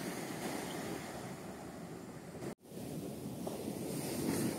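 Sea waves on Varkala's black sand beach make a faint, continuous surf wash with light wind noise, broken by one brief dropout midway.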